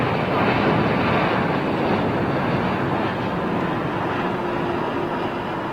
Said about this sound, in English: No, another Air India Dreamliner.